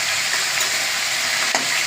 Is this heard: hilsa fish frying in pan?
yes